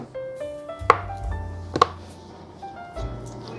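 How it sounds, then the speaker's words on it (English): A knife cuts butter into small cubes on a board for candied yams, producing a few distinct sharp taps and thunks against the surface amid quiet kitchen background. "I'm just gonna cut these into little nubs or cubes."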